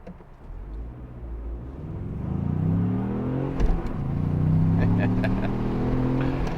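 A 2025 Ford Bronco two-door 4x4 engine with manual transmission rumbles close by, its low drone rising and falling as it revs and pulls, with a soft clunk partway through.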